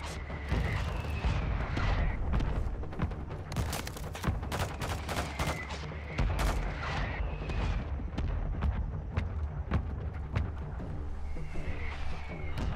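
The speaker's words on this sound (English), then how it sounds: "Mortar strike on the way" Mortar strike explosions in a military shooter game, a dense barrage of sharp blasts and crackling gunfire-like impacts repeating rapidly throughout, loud and close with rumbling low end.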